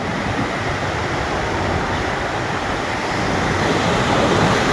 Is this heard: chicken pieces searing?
no